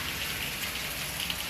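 Rain falling steadily, a dense even hiss of many drops on surfaces, moderately loud and continuous with no other sounds.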